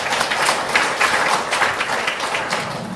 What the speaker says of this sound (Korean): 우리 하나님께 영광의 박수를 드립니다.